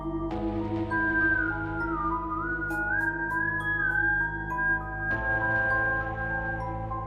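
Eerie whistling passing a house at night: a single sustained, wavering tone that slides up and down, clear and fairly loud against a quiet background.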